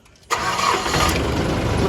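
A newly delivered van's engine cranks and fires about a third of a second in, then settles into a loud, steady idle that runs to the end with no talking.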